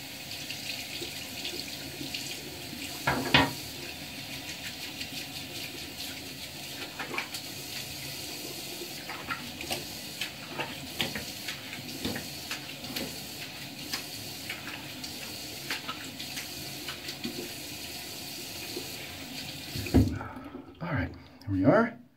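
A bathroom sink tap runs steadily as a face is rinsed after shaving, a continuous moderate stream of water with occasional splashes and bumps, ending with a few louder knocks and handling noises.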